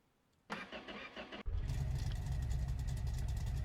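A car engine cranks with a short starter whir, catches and settles into a steady, close idle with a slight rev as the car is backed onto trailer ramps.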